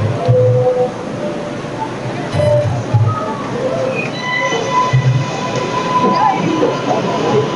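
A subway train rumbles past near 90th Street station on Roosevelt Avenue, Jackson Heights, New York City, with metallic wheel squeals and screeching tones rising over the steady roar, fairly loud and close.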